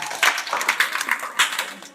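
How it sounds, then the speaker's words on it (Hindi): Clapping in a coaching-class room for a student who topped the weekly test, a series of bright, uneven claps from several people at close range, moderately loud and lasting about two seconds. "कुलदीप भैया के लिए जोरदार तालियां 10 में 10 नंबर आए हैं।"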